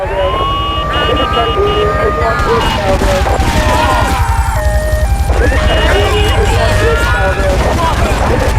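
Gunfire erupts in Grand Theft Auto III, with rapid shots mixed into a busy game soundscape of crashes, engine noise and beeping tones, loud and chaotic throughout.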